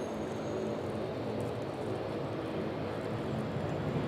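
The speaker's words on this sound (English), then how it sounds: "This one is departing. There it goes, Southwest Airlines." A Southwest Airlines jet departs Raleigh-Durham International Airport, heard as a steady, broad engine roar that holds at an even level for the whole stretch, with no voices.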